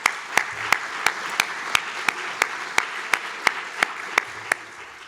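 An audience at a community launch event claps for a committee, a steady crowd applause with sharp, evenly spaced loud slaps standing out above it.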